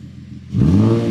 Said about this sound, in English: we're gonna try and get a little coolish rev going on